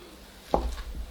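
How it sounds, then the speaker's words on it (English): A knife cutting a slice of apple cake, one short dull crunching chop close up against a quiet room background. "So I'm just going to cut a slice now"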